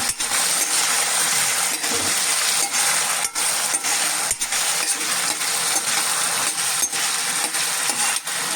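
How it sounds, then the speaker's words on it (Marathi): Potatoes sautéing in ghee for sabudana khichdi, a steady close sizzle with regular scraping clicks of a spatula stirring through the pan, no voices. "आणि हे बटाटे घालून हे चांगल्या प्रकारे तुपामध्ये परतून घेतोय."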